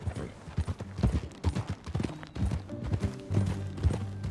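Horse hooves clip-clop at a steady riding gait in the video game Red Dead Redemption 2, close and continuous, with a faint whinny and brief voices mixed in.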